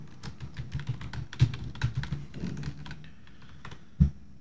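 Keys tapped on a computer keyboard in short irregular bursts, close and fairly soft, ending with one firmer keystroke near the end, no voices.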